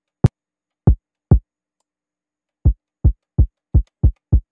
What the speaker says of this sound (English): the kick is going to lose a lot of its punchiness because a lot of the punchiness that comes from the kick comes at the very beginning of that sample sound.